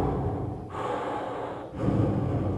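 Air drawn in through an open mouth and let back out, heard as two or three broad breathy rushes, close and fairly loud, with no talking.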